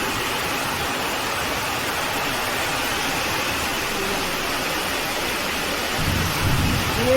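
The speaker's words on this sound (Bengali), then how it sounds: "মেঘও ডাকছে, সেই বৃষ্টি হচ্ছে।" A heavy rain and wind storm with thunder, a dense continuous roar of downpour and gusts, loud and close, swelling briefly near the end.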